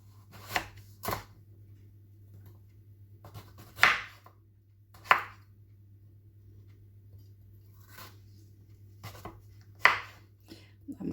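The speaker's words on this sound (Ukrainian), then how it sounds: "І так само я покришу морквину." Knife chopping a carrot on a cutting board for sweet potato soup, sharp crisp thuds in irregular, spaced bursts over a quiet low hum, close and fairly faint, with no talking.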